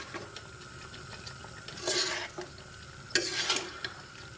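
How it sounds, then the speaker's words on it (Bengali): Boiled potatoes are stirred and cooked down in a pan over a medium flame, making a low steady sizzle with a few louder scraping bursts of the spoon near the middle and end, and no voices. "এখন চুলার জালটি মিডিয়ামে রেখে আমি আরেকটু টানিয়ে নিচ্ছি।"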